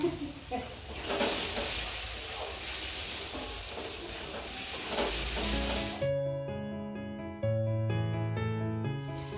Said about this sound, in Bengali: এখন এটাকে ভালো করে কষাই, যতক্ষণ পর্যন্ত পেঁয়াজ আর রসুনের কাঁচা গন্ধটা না যাবে কষাতে হবে।